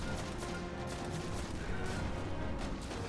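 Dense, sustained gunfire-like crackle from a fusion rifle in the video game Destiny, filling the whole stretch at steady, noisy loudness with no distinct gaps between bursts.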